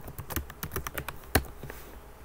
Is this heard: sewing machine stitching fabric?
no